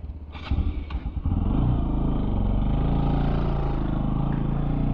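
A motorcycle engine kicks into life with a couple of rough starting clatters, then settles into a loud, steady close-up idle as the ride begins.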